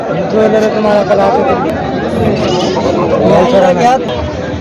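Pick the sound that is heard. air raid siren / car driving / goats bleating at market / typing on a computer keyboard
goats bleating at market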